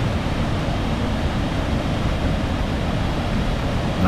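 A strong river current rushes past near a dam, giving a steady, dense roar of churning water that holds at the same loudness throughout with no voices.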